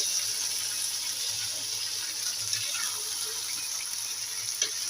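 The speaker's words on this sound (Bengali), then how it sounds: "আলুটা সুন্দর একটু নাড়াফোড়া দিয়ে দিব এবং একটু পানি দিয়ে দিব" Water poured into a pot of chicken and potato curry as it cooks, a steady gushing hiss lasting several seconds with no talking.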